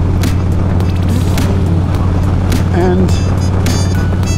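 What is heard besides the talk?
motorcycle engine while riding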